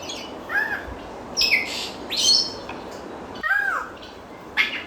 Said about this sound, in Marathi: हे बघा, हे छोटे पोपटासारखे दिसणारे पक्षी आहेत.